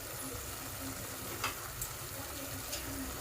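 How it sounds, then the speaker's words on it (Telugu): Onions frying in oil in a pan for a prawn tamarind curry, a steady broadband sizzle with a few brief stirring clicks, close and continuous, with no talking. "ఇప్పుడు మనకు ఉల్లిపాయ బాగా వేగాలి, మంచి కలర్ రావాలి, ఆయిల్ తేలాలి"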